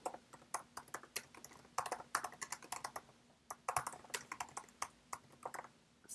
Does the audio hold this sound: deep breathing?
no